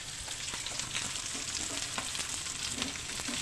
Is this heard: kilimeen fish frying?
yes